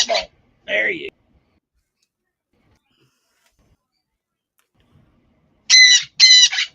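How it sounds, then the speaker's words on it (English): Pet bird at home gives a few short, bright chirping calls, close and clear, separated by a long stretch of silence. "That's why you hear the bird."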